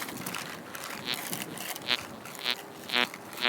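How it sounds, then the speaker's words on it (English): Metal detector threshold hum bubbling steadily, with several short low-tone beeps signaling iron targets, repeating at irregular intervals, near and moderately loud. "Low tone, that's iron."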